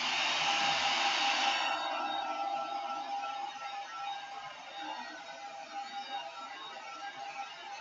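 A hair dryer drying a wet-in-wet watercolour painting of a rocky stream blows with a steady, loud whir that starts strong and eases slightly lower, running continuously without talk.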